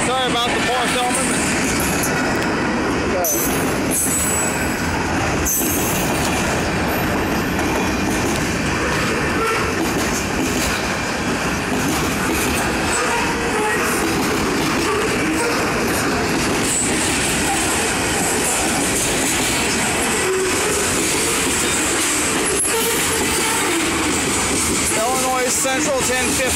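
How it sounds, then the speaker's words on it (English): Illinois Central 1015 freight train rolling through Effingham, Illinois on the brake: a long, loud, continuous rumble of wagons with wheel squeal and clickety-clack, close by, while voices talk faintly underneath. "Central 1015 freight train."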